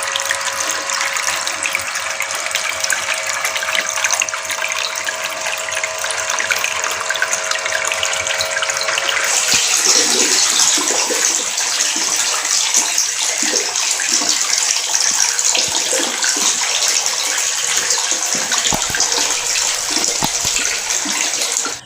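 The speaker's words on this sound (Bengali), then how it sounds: "তো পানির শব্দ আরেকবার শোনেন।" Homemade water fountain driven by a 12 volt DC pump, with water gushing and splashing continuously at close range, the tone shifting partway through as the flow changes, no voices.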